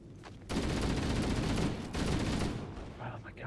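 An assault rifle fires in the Halo video game as a sustained automatic burst lasting about two seconds, loud and dense, before tapering off.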